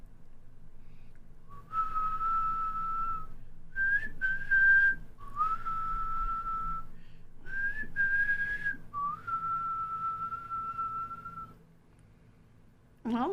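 A person whistles a tune in a clear, steady melody of sustained held notes with short breaks between phrases, fairly close and alone, fading out near the end.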